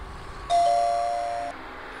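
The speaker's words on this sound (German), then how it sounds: "Für Anfragen Klingel drücken." Doorbell at a closed bakery in the Zak McKracken adventure game, one clear electronic ding tone held steadily for about a second before cutting off, alone over a quiet background.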